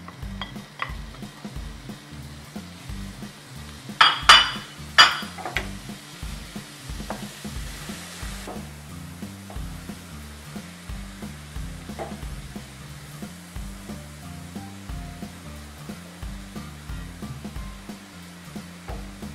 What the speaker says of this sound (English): Then I'm gonna put my cauliflower, my hamburger meat, and my vegetables together